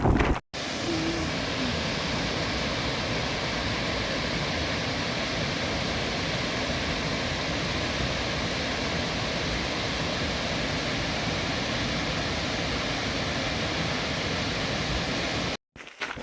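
Steady, loud wind roars and buffets the microphone without pause on a mountain peak along the Appalachian Trail, a dense rushing noise filling the whole stretch.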